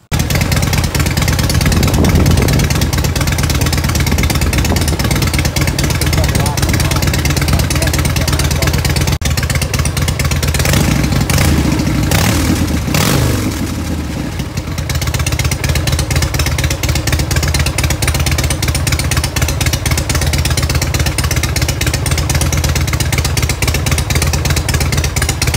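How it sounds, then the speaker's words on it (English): A 2003 Harley-Davidson Road King runs continuously with a loud, close, steady engine rumble, dipping briefly partway through before settling back to an even idle. "We'll start the bike up, let it run for about five minutes"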